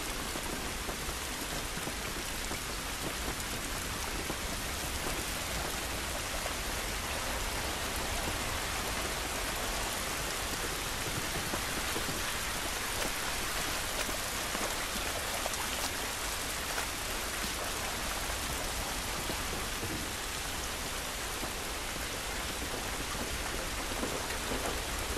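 Rainfall in The Last of Us Remastered, a constant, dense hiss of heavy rain pattering on surfaces outdoors, loud and unbroken for the whole stretch with no voices.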